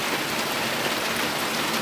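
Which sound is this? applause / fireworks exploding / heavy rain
heavy rain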